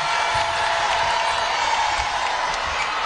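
A basketball arena crowd rises during a Tennessee vs Vanderbilt SEC game, giving off a dense, steady roar of cheering and noise throughout, loud and constant with no pauses.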